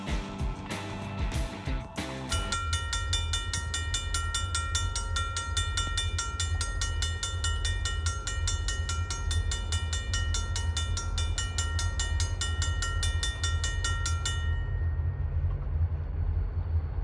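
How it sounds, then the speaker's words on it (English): Freight train with four locomotives climbing a hill on wet rail at the western end of Mount Orb: a loud, steady, close rumble of engines and wagons with a sustained tonal whine for most of the passage, then cuts off sharply near the end. "Here comes the train."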